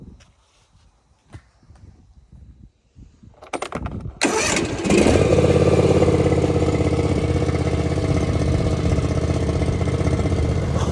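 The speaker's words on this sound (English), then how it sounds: "we got that John Deere going one more time" A John Deere lawnmower engine cranks after a few quiet knocks and footsteps, catches and then runs steadily and loudly at a constant idle for the rest of the clip, with no talking.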